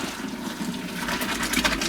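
Boiled potatoes and their water pour from a pot into a Dutch oven, a continuous splashing gush up close that grows slightly louder toward the end.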